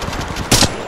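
Automatic gunfire in Apex Legends Mobile, a rapid burst of shots followed by a louder, sharper blast near the end, short and close.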